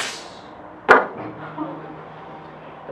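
A voice imitates an exclamation point in phonetic punctuation, a single sharp percussive burst like a click or chop that stands out alone against a quiet background with faint noise.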